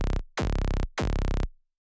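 Hardstyle FM screech synth patch built in FL Studio's Sytrus with a pitch envelope, heard alone as two loud sustained bright tones, each starting with a downward pitch sweep, separated by a short gap before cutting to silence.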